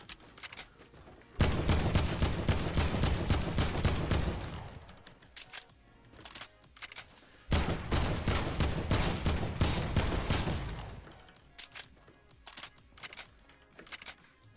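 Two long bursts of AK rifle fire from the Fortnite video game, loud and rapid, each lasting about three seconds, separated by scattered quieter single shots and game noises.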